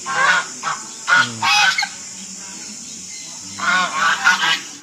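Loud honking calls from Muscovy ducks come in several bursts, close by, with quiet pauses between them and no talking, at a zoo.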